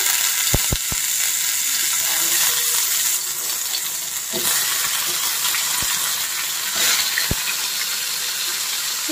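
Mixed vegetables such as pumpkin, karela and potato fry in hot oil, giving a constant close sizzle punctuated by several sharp pops and spatters; no voices are heard.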